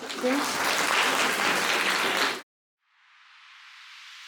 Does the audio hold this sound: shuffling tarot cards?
no